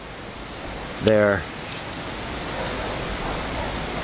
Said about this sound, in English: You can see the fast rushing water right